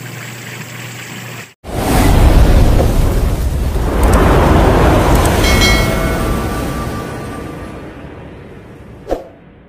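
A Samsung fully automatic washing machine switched to dryer spin mode starts abruptly with a loud, steady rushing whir that slowly eases off, ending with a brief clunk.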